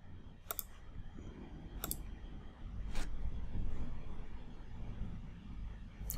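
Keys pressed on a Mac keyboard: four crisp, close clicks spread over a few seconds against a low room hum.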